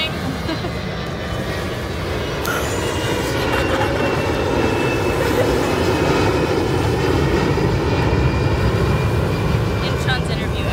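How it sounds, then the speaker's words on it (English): Fixed-wing airplane passing overhead at an acclimation camp, a sustained engine roar that swells slightly and holds steady, with people talking over it. "Oh, no, we got an airplane."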